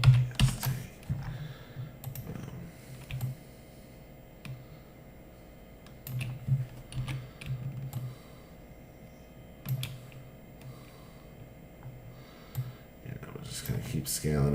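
Typing on a computer keyboard while tracing a bitmap in Inkscape, with bursts of quick, light key clicks separated by pauses. The clicks are close but soft, and someone talks intermittently over them.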